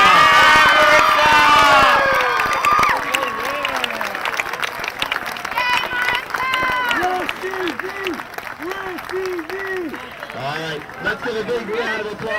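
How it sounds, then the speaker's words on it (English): A crowd at a high school homecoming applauds and cheers for the homecoming king and queen, a burst of loud clapping that tapers, with excited shouts and voices continuing over the noise. "Let's get a big round of applause."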